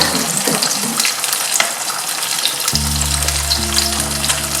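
Coconut rice cooking in a pot, a loud continuous bubbling hiss, joined partway through by a steady low hum from the stove.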